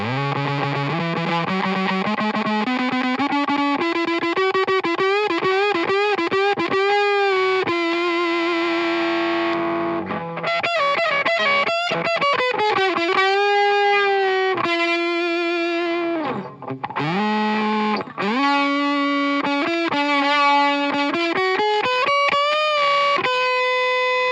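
A guitar goes through a budget 4D Pedals fuzz pedal for a doomy 1960s fuzz tone: thick saturated riffs and sliding notes with brief pauses, loud and close with no talk.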